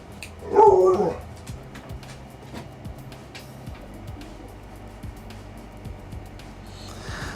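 One loud dog bark bursts out early, followed by faint scattered thuds and rustles, with the animal somewhat removed from the listener.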